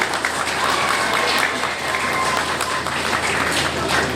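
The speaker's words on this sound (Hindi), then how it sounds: "तो हम लोग तालियों से स्वागत करें" A crowd claps to welcome a minister during his visit to a makhana processing unit in Harda, a loud, dense, unbroken wash of applause from many hands, sustained evenly throughout.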